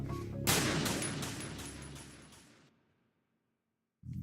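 Gunfire from the Metal Gear Solid 2 video game: a loud, dense burst of rapid shots lasting about two seconds, fading out into silence before another sound begins.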